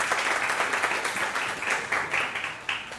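A seated audience at a panel event on media, youth and suicide claps together in a steady, dense wash of applause that holds fairly even throughout, with a few louder swells near the end.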